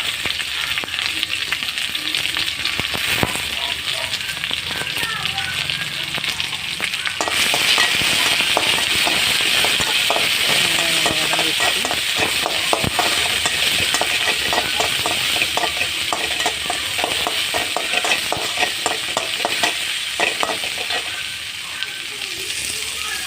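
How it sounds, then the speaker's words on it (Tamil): Chopped onions sautéing in a pan for cauliflower gravy, with a loud continuous sizzle and rapid repeated scraping strokes through the middle, heard close up and without talk. "வெங்காயத்தை போட்டு வதக்கணும் நல்லா வதங்கட்டும்"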